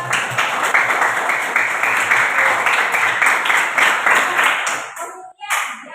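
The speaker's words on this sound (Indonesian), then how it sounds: "Oke, berikan aplaus bicara." A classroom group claps together in dense, steady applause for about five seconds before it trails off into quiet.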